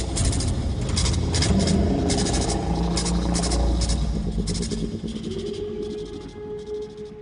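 A voice imitates the rattling, mechanical ticking growl of the smoke monster from the TV show Lost, a continuous close rumble with clicking pulses riding over it, easing into a thinner buzzing tone toward the end.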